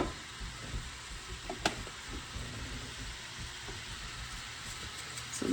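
Ground meat browning in a pan for a crockpot lasagna, giving a soft, steady sizzle and frying crackle with one brief sharp clack partway through, close and fairly quiet, with no speech.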